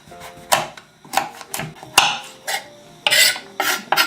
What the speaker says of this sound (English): Then you can switch to a smaller knife to just cut the peel off.